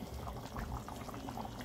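A tomato chicken stew with potatoes bubbles in a pot, a soft steady simmer of small popping bubbles, faint and close.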